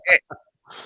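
A single short, sharp sneeze bursts out, followed by a brief nasal sniff and a breathy exhale, close and quiet.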